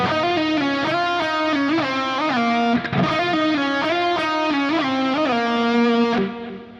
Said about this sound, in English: I like to do slides where I slide up real quick and then hit the note that I'm targeting